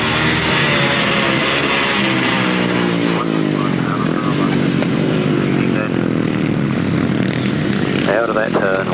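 Grasstrack racing motorcycles at a 1994 Frittenden meeting, a continuous loud engine drone with rising and falling pitch as bikes pass, under a commentator's steady voice.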